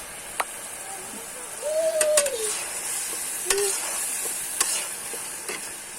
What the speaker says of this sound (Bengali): ডিমের জন্য মশলা কষানো হচ্ছে